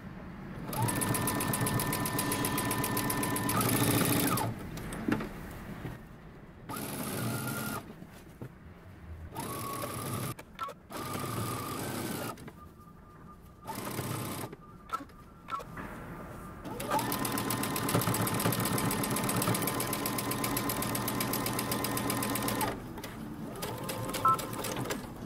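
Sewing machine stitching the facing of a jumper made from Simplicity pattern 8301, bursts of rapid mechanical whirring stitches of varying length separated by quiet pauses, close and steady.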